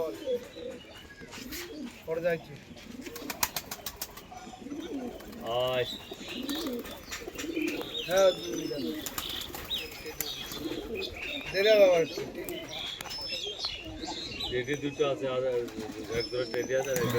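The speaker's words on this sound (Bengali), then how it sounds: "কালার দেখুন পায়রাগুলো" Pigeons coo repeatedly in soft, throaty, rolling calls close by, with scattered chirps and fluttering among them, while people talk over the birds throughout.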